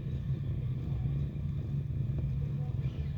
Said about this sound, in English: All engines going.